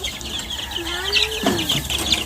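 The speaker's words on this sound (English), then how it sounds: "A lot of chicks this year." Chickens and chicks on a California farm with roundhead gamefowl, clucking and calling at moderate distance, with a rising call partway through over steady background ambience.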